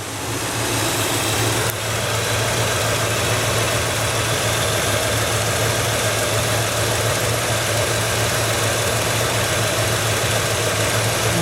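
A 1967 Cadillac Eldorado's engine idles steadily with a deep, even exhaust rumble, close and loud, holding constant throughout after a brief click near the start, with no talking.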